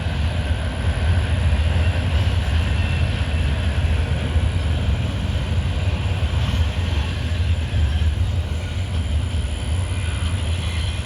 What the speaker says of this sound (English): So we got some different type of cargo on the piggyback train.